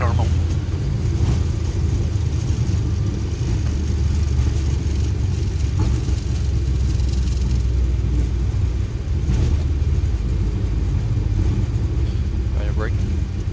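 A Boeing 737's reverse thrust roars during its landing roll at Rotterdam Airport, a loud, steady low rumble of engine noise heard from the flight deck while pilots talk over it.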